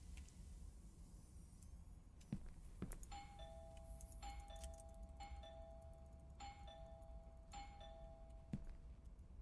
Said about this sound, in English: I should ring the doorbell. Okay, there we go. Doorbell.